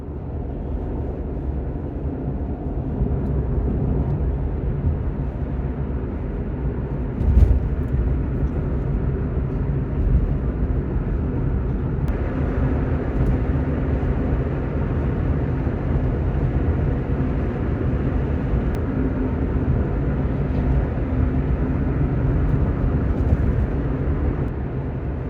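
Steady road drone from a car heading along the A14 through roadworks, a constant low rumble of tyres and wind with no one speaking and only a small bump partway through.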